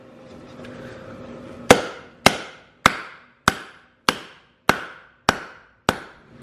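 A hammer strikes a driveshaft U-joint, driving its cap out into a socket, nine sharp metallic smacks in a steady rhythm, each ringing briefly, loud and close after a low hum.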